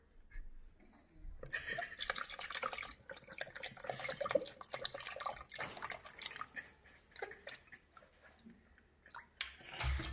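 Milk pours into pancake batter in a bowl with close, quiet splashing and dripping that comes in uneven bursts over several seconds.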